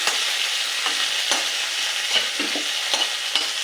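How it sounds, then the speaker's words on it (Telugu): Green chillies fry in hot oil in a pan, a constant close sizzle broken by repeated scraping strokes of a stirring spoon, steady and alone without any voices. "ఇలా యాడ్ చేసుకుని ఫ్రై అనేది చేసుకోవాలి పచ్చిమిర్చి కూడా"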